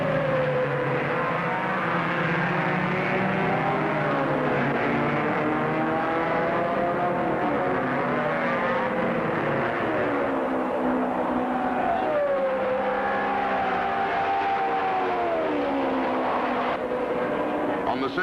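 Race cars roar around the Indianapolis track, with Bobby Unser's White Eagle leading the pack; a dense, continuous engine drone with overlapping pitch sweeps as cars pass, steady and loud throughout.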